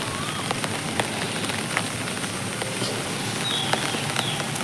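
Steady rain falls on a rooftop garden, a dense, even hiss of drops with occasional sharper taps on nearby surfaces, constant and moderately loud throughout.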